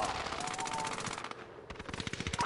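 Rapid automatic gunfire from Call of Duty on PS5 rattles in loud, continuous bursts, easing briefly about halfway through before the shots pick up again.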